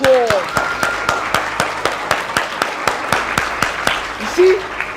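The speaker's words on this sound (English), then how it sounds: "Give yourselves a round of applause." A small group of people in a seminar audience claps at a steady, even beat, sharp individual claps in a regular rhythm with a brief voice near the start and a short vocal sound near the end.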